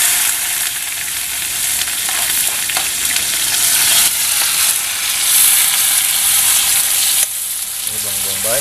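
Sliced onion dropped into hot oil in a pan over a cooking fire, giving a loud, steady, close sizzle and frying hiss that runs without a break and shifts slightly as it is stirred.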